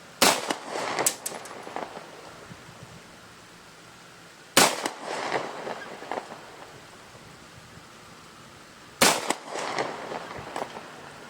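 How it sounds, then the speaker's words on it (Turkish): Three loud, sharp shots from a Yavuz 16 pistol fired outdoors at a bottle 95.2 metres away, evenly spaced about four seconds apart, each with a short echoing tail. "Şişeyi üçüncü atışta vurdum."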